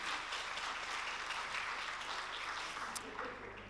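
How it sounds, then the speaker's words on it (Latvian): Audience applause for dancers at an 18th anniversary folk dance concert in a hall, a dense, steady clapping that runs throughout and fades a little at the end. "Aplausos vēlreiz viņiem."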